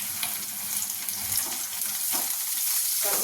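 Onions, curry leaves and turmeric fry in a pan with a steady, dense sizzle and crackle, close and continuous, with a few brief stirring scrapes.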